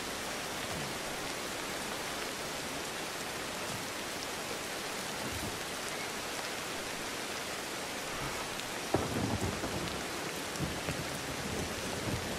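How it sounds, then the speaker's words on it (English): Heavy rain roars as a steady, dense wash in the video game Humankind, with a low rumble of thunder breaking in near the end, loud and continuous with no talking. "Wow, this rain is really loud."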